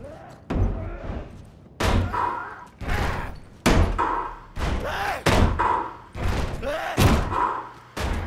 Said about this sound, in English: Door pounding is definitely what's going on right now.